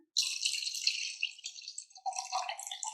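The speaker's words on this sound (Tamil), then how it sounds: "இதில் நான் ஒரு 250 ml பால் ஊற்றிக்கிறேன்." Milk poured for a palm fruit (nungu) milkshake streams into a container in a bright, close trickle, pausing briefly before a second, lower-pitched pour fills in.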